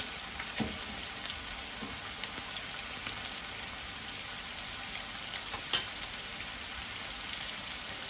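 Steady margarine sizzling in a pan for a meat and mushroom sauté, a constant crackly hiss with a few small pops and stirring clicks throughout.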